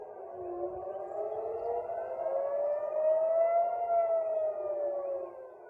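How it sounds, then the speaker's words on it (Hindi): A long wailing air raid siren warning of incoming missiles in Israel rises and falls slowly, steady and loud throughout, with no voices. "मिसाइल आने की वजह से इजराइल के मुख्तलिफ इलाकों में सायरन की आवाजें सुनाई देने लगी"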